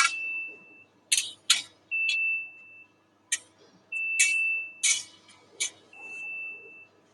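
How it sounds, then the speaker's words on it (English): A pipe-cutting machine's alarm sounds with repeated high electronic beeps, some held and some short, over bursts of hissing noise in a factory with no pipe loaded. "There's no pipe, so it will give the alarm."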